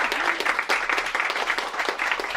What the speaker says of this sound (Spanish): Así que un aplauso para Yoli, que se estrena.